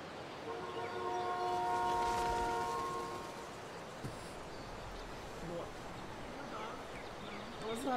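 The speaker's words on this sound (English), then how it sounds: "Let's honk the horn." In the video game Life Is Strange: Before the Storm, a truck horn sounds in a long, steady blast close by for about two seconds. Faint background ambience and a voice follow.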